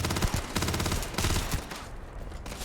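Rapid gunfire from a shotgun in a video game, several close, loud blasts in quick succession, dense and overlapping before fading.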